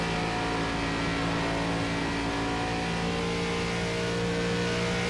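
An ARCA stock car engine roars steadily in iRacing at Charlotte, a loud, sustained drone at near-constant speed with no talking.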